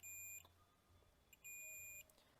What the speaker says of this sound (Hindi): आपको बीप साउंड सुनाई दे रहा होगा